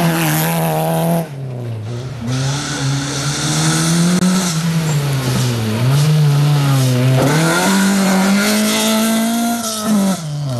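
Rally car engines roar and rev hard through corners and braking on a dry, dusty dirt special stage, the tone rising and dipping with gear changes, loud and close throughout, with brief tire scrabble.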